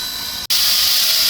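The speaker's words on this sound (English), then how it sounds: "142 pulls out of Phillipsburg with a 6-car train and 811 pushing at the rear." Steam locomotive 142 pulls out of Phillipsburg with a six-car train and 811 pushing at the rear, giving off a loud, steady hiss of steam that cuts out for an instant, then resumes even stronger and brighter.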